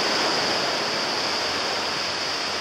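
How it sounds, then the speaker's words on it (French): A strong river current rushing past, a loud, dense and unbroken roar of flowing water close by, with no voices. "regarde tout l'eau qui coule"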